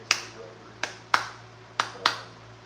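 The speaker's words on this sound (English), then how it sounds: "suppressed 22 rifle is insanely quiet, no recoil at all" A suppressed .22 rifle fires five quick, sharp cracks at uneven intervals, each as small and dry as a single handclap. A low steady hum runs underneath.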